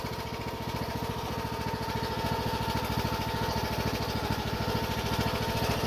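A 2019 John Deere E100 riding lawn tractor runs steadily close by, its small engine giving an even, rapid pulsing drone with a faint high whine, unbroken for the whole stretch with no talking.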